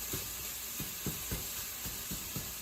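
Onions and celery fry in a single pan while sausage stuffing is prepared, a steady high sizzle broken by soft, irregular stirring scrapes and clicks, close and continuous with no talk.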